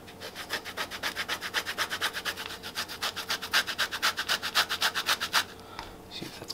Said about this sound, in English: here we're gonna zest the orange